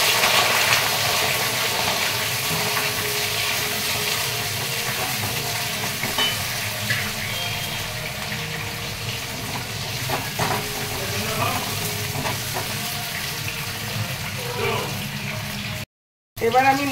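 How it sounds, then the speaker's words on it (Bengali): Potatoes fry in hot oil in a wok, giving a steady, loud, close sizzle that goes on for a long stretch, cut by a brief dropout near the end. "আলুগুলো কড়াই তেল গরম হয়ে গেছে,"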